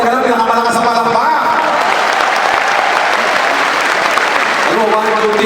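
A crowd at a motivational business gathering breaks into loud, sustained applause, dense clapping and cheering that fills the whole stretch, with faint tonal music or voices showing at the start and end.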